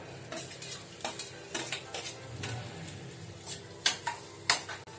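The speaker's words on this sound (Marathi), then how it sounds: "आता आपण कांदा टाकू।" Onion frying in a pan for a Marathi black pea usal, with a soft sizzle under repeated close scrapes and clinks of a spoon stirring against the pan, a few sharper metallic taps standing out.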